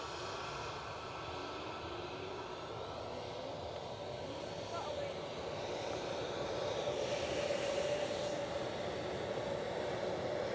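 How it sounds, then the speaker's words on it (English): A JetBlue airliner passes at Edinburgh airport, a steady broad engine roar that builds slightly toward the end, heard from a distance in open air with faint talk underneath. "the JetBlue is coming past."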